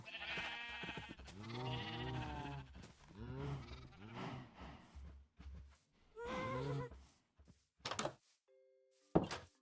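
Sheep on a Minecraft sheep farm bleat in a string of wavering, nasal calls one after another, close and clear, followed by a few short game thunks and beeps.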